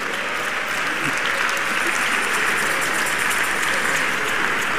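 A church congregation applauds at a birthday public lecture, a dense, steady wash of many hands clapping together, loud and sustained from start to finish with crowd murmur underneath.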